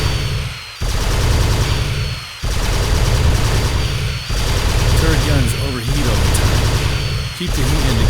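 Heavy turret gun in the video game Terminator: Dawn of Fate fires in long sustained bursts, loud and continuous, broken by brief pauses, with game voices speaking over the gunfire.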